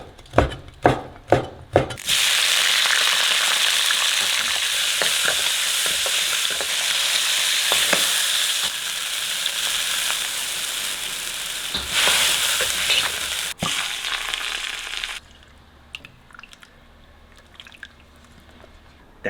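Pork tripe stir-fried hard in a hot wok for a hot and sour noodle dish, a loud continuous sizzle with scraping spatula strokes, preceded by a few sharp knocks and ending in quieter clatter.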